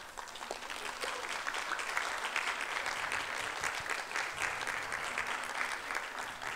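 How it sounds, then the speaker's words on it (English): A sustained round of audience applause for the Secretary to the Cabinet at a talk on how the Cabinet works, dense steady clapping throughout with no voices over it. "Another round of applause."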